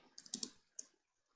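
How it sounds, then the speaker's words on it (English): A few quick clicks of a computer keyboard being typed on with one hand, close and soft, in a short irregular burst before falling quiet. "I'm typing with one hand now because I'm holding the camera"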